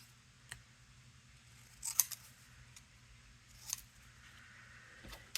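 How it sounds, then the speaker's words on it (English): Scissors cut cardboard from a box along score lines, heard as a few faint, sparse snips and crisp clicks spaced over several seconds in a quiet room, with no talking. "So let me just take these, cut them along the score lines."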